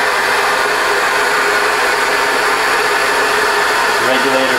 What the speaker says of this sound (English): You can hear the air from the vacuum venturi tubes.